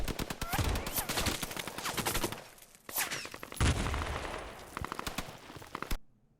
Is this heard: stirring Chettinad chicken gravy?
no